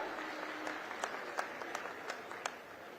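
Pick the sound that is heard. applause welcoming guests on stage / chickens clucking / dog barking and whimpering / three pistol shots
applause welcoming guests on stage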